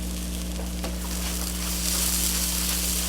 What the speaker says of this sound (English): You kind of just saute those onions and tomatoes to a certain point